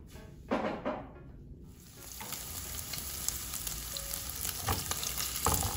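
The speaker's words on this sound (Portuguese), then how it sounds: "Agora, na mesma frigideira, nós vamos colocar o bacon." Bacon fries in a frying pan with a steady, close sizzle and crackle that builds after a few early clattering handling sounds and then spits continuously, with no voices.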